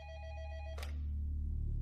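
A telephone rings with a bright electronic tone that holds for under a second, then breaks off into a short burst, leaving a low, faint hum.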